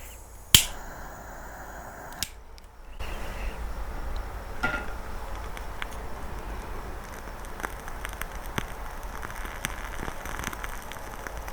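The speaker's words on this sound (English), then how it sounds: "It's also a wooden wick, so I thought it'd be good background noise." After a sharp click, a wooden-wick candle crackles softly and steadily, with faint scattered ticks and pops close by.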